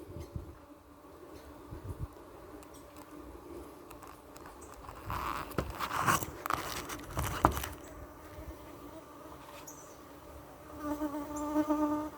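Honey bees buzz around brood frames being added to a lagging hive, a steady insect drone with louder swells as the frames are handled nearby.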